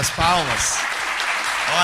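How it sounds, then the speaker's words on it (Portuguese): Audience applause at a live podcast recording, a broad wash of clapping under a voice speaking briefly over it, steady and close throughout. "Muito bom. Palmas."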